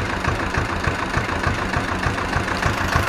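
Ursus tractor engine, a C 360 or C 325, running steadily nearby with a low rhythmic chugging throughout, loud and continuous with no talking, while the tractor is driven during field liming.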